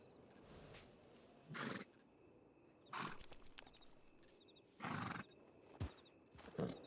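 A horse in a ranch roleplay video game whinnies several times in short, separate bursts, with soft hoof clip-clops between them over a quiet background.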